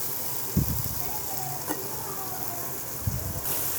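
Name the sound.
eggplants frying in tomato masala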